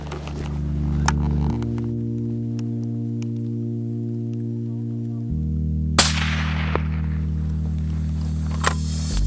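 A single sharp rifle shot cracks out during a wild boar driven hunt and rings off into a fading echo. It stands alone over a loud, steady engine-like hum, with a fainter knock a few seconds later.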